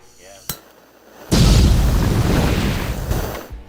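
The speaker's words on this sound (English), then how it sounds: "That exploded." An explosion inside a workshop: a sharp click, then a sudden loud, rumbling burst that sustains for about two seconds before fading.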